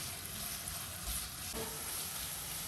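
Curry leaves sautéing in a hot pan until brown, giving a steady soft sizzle and crackle of frying oil throughout, close and even, with no voices.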